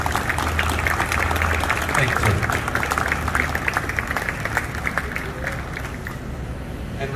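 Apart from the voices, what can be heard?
audience applause at remembrance ceremony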